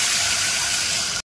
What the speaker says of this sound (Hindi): और इसमें डाल देंगे पानी।